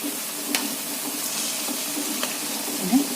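Ripe banana frying in a pan, a steady low sizzle and crackle running throughout with a few faint clinks near the cooker.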